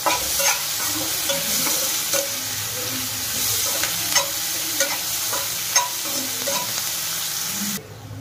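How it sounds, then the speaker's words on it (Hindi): Two finely chopped onions fry in a pan for a tinda curry, with a continuous loud sizzle broken by regular scraping stirs and clinks, until it suddenly cuts quieter at the end. "तो ये देखिए प्याज अच्छे से फ्राई हो जाए"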